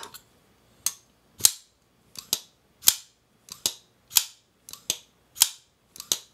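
A Shirogorov Quantum Gen 2 pocketknife snaps open and shut about ten times in a steady rhythm. Each action is a crisp, bright metallic click with a short ringing tail, heard close and alone.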